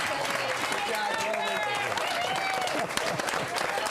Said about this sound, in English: Can we have a big round of applause for our coach?